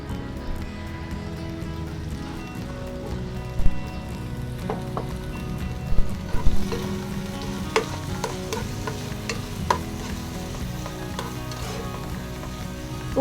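Onion, ginger and tomato sauté in a pan with a continuous close sizzle. Spatula scrapes and knocks come through it at irregular points.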